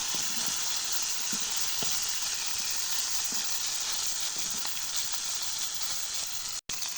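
Bata fish frying in hot oil in a home kitchen, a steady crackling sizzle with occasional sharp pops and a brief cut in the sound near the end.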